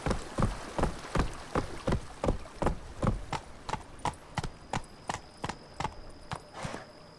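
Hooves of the horse Roach in the video game The Witcher 3, clip-clopping in a steady, even rhythm of about a dozen crisp, close strikes on a hard surface, with no voices.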